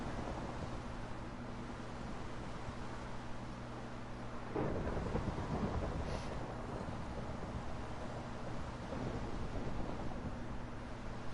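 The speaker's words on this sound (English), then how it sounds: "this fucking thunder's kind of scary with these headphones on" Thunder during a thunderstorm, a sustained low rumble with a sharper crack midway, heard steadily over continuous background noise with no talking.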